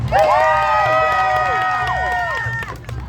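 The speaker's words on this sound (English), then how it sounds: "repel her with our applause and our screams" A crowd at the Sherwood Forest Faire whoops, cheers and yells in a loud, sustained burst for the bard Taliesin after the final bard battle, fading slightly at the end.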